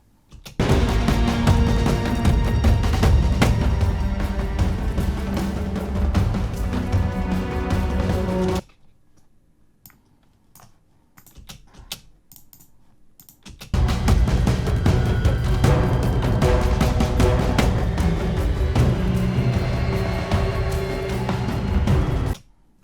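Dense, driving orchestral game combat music plays loudly, cuts to a quiet, sparse passage for several seconds, then surges back in at full intensity, transitioning from a high-intensity to a low-intensity combat section.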